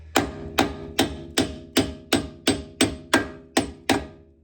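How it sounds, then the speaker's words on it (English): Ten evenly spaced metal hammer strikes, loud and close, driving out a front upper control arm bolt on an Audi Q5 2.0T; each blow rings briefly before the next, with no talking. "hammer it to get part of it"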